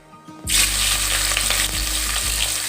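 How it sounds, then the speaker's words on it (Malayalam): A sudden loud burst of sizzling as fennel seeds and cinnamon hit hot oil in a pressure cooker, then steady crackling frying close up, with no talking. "കുക്കറിൽ എണ്ണ ഒഴിച്ച് കുറച്ച് പെരിഞ്ചീരകം പട്ട ഗ്രാമം ഇത് രണ്ടും ഇട്ട് കൊടുക്കുക"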